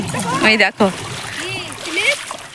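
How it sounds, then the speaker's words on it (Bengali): People swim in a fast-flowing river, with water splashing and sloshing under close talk from adults and children. "আর ওই দেখো আমার ভাই সাঁতার কাটছে"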